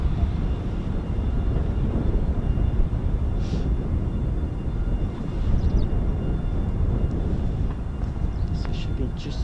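A KC-135 Stratotanker approaching runway 10 at RAF Mildenhall makes a continuous distant jet roar and rumble that holds steady throughout.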